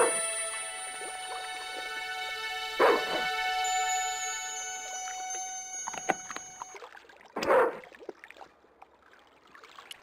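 Two sharp, separate barks from a dog in the point-and-click adventure game Broken Sword 2, each one a short loud burst over a quiet, sustained backdrop of tonal game music.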